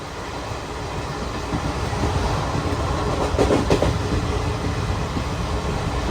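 Sleeper class train running through Manmad station at speed, a steady rumble with rhythmic wheel clatter building slightly, heard from inside the carriage.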